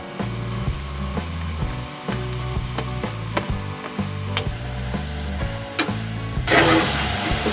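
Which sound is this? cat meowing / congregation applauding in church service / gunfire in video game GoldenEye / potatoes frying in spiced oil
potatoes frying in spiced oil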